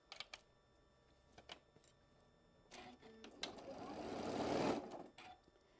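A sewing machine stitches a quilt block along a marked seam line, a few brief clicks first, then a steady whirring run that builds and stops after about a second and a half.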